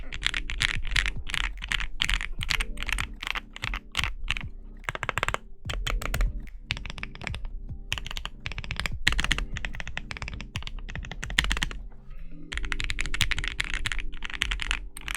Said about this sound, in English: Hey, look, I'm doing an Alex Odo's typing test without it plugged in.